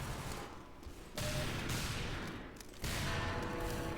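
Gunfire in the video game Team Fortress 2, a dense, loud burst of game noise that drops briefly and then returns in two heavier surges, with no talking.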